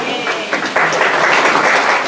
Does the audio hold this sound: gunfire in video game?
no